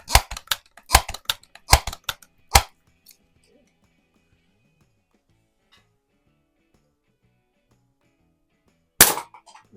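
A 1970 Western Auto Revelation air gun (Crosman 760) fires cheap pellets at a turkey target: a quick burst of about six sharp, loud cracks in the first seconds, then quiet, then one more close shot near the end.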